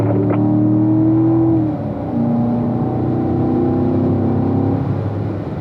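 Race car engine on track, a loud, close tonal roar climbing in pitch, dropping briefly at an upshift into fourth gear, then rising again steadily under throttle.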